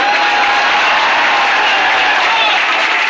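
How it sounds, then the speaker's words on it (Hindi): Loud, dense applause from a large audience at a poetry recital in a hall, continuous clapping close and bright with a faint crowd murmur underneath. "देखिए अपनी तारीफ सुन के आदमी कैसे ताली बजाता है"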